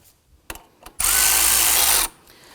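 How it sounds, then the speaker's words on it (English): About a second of a power tool's whirring buzz tightens the belt tensioner on a 2005-2009 Subaru Legacy 2.5L H4 engine, preceded by a couple of small metallic clicks. "Let's go ahead and tighten down the tensioner here."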